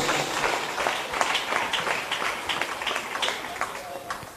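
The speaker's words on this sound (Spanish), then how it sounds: "echa fuerte aplauso a la palabra de Dios" A Catholic congregation at a sermon breaks into steady applause, a busy patter of many hands with voices mixed in beneath it.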